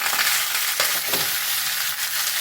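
Grated coconut sautéing in a pan for a potato and pea curry, giving a steady close sizzle and crackle with a few soft scraping stirs throughout, no voices.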